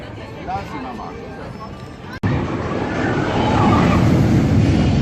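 A roller coaster train rumbles and clatters along its track at Phantasialand, the noise building louder in the second half over a background of crowd chatter.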